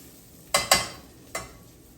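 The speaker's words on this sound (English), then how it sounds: "Just give that a stir." A spoon scrapes and knocks through a pot of curry-seasoned braising liquid for a bottom round roast, making three quick close strokes with a soft sizzle underneath.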